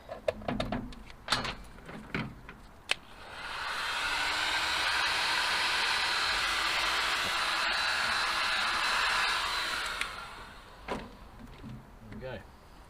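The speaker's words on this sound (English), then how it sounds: "Heat gun." Heat gun running during a winch swap on a Ford Transit car transporter, a steady loud blowing hiss for about six seconds that starts and stops abruptly, with workshop clatter and handling noises before and after.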